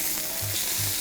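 Beef turned over in a hot pan, a loud steady sizzle with two brief low scraping bumps as the meat is flipped, close and without talk.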